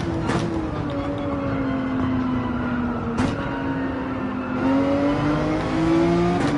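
Viper race car from Gran Turismo 7 roaring down a straight at high revs, a steady loud engine drone with rising pitch as it accelerates, a couple of brief shifts or bumps breaking the tone, no talk over it.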